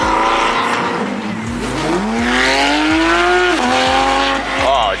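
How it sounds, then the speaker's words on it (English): A Ferrari 488 and a Porsche GT3 pull out of a Cars and Coffee meet, with a loud, near engine rising in pitch through a long rev, a gear change, then another climb, plus a tire chirp, over crowd background. "The Ferrari 488's pulling out"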